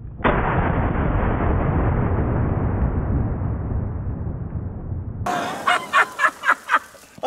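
A triple barrel shotgun loaded with double-aught buckshot fires one loud, booming blast that rolls away into a long outdoor decay, followed by several sharp short bursts of sound.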